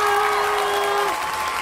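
Steady, dense applause from a crowd, continuous throughout, with a faint tonal hum running underneath for the first part.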